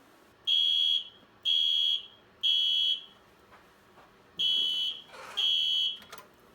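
A Potter PFC 4410RC fire alarm system sounds during a test, giving five loud, steady electronic tone blasts of about a second each with short gaps between them, clear and alone in the room.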